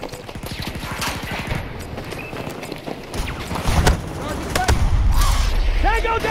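Gunfire and a grenade blast in a Battlefield video game firefight: rapid rattling shots, then a heavier low burst around the middle, with a voice calling out over the loud, continuous battle noise.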